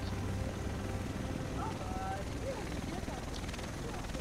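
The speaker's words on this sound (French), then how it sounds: "Le reste de l'équipe devrait être dans cet hélico." A helicopter in The Division drones with a steady, rumbling rotor beat throughout, close and continuous, while people talk over it.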